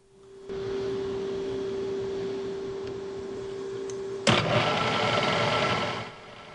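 A milling machine bores a hole with a 7/16 inch four-flute end mill, a steady motor whine with a tonal hum that turns into louder, rougher cutting noise as the tool engages near the end, then fades.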